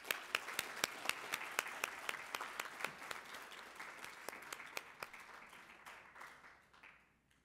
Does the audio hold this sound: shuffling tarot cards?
no